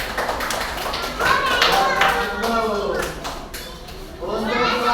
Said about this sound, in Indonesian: Silakan berikan tepuk tangan untuk kelompok satu.